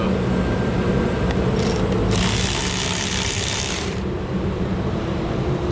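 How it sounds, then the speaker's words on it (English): Power tool whirring while taking the wheels off a rallycross car, a constant mechanical hum with a louder high-pitched burst of about two seconds in the middle. "Now this is where your power tools come in handy, because we're just gonna finish taking off the wheels."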